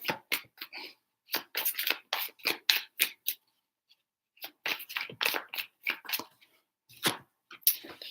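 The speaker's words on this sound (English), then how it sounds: "3 shuffles for Taurus" Tarot cards are shuffled in three bursts, each a quick run of crisp, papery riffles and snaps close by, separated by short silent gaps.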